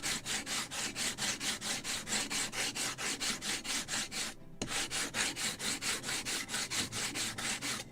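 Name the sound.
sanding a wooden model ship yard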